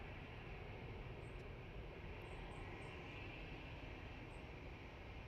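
Boeing 777 jet engines spooling up at Manchester Airport, a steady, loud broadband roar that holds constant throughout, with faint high whines above it and no voices.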